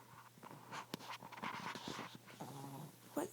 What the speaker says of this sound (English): what is going on with your stomach? It's making so much noise.